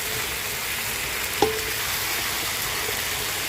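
Garlic and onion sautéing in a small amount of oil for chicken adobo, a loud steady sizzle filling the whole stretch, with one brief knock of a utensil partway through and no speech.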